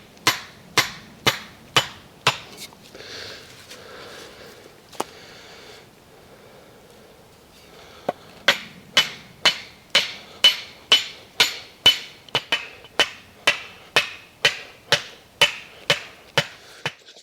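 Metal tent stakes are hammered into the ground at a rain-soaked tarp camp, with crisp, evenly spaced strikes in two long runs split by a quieter pause with rustling.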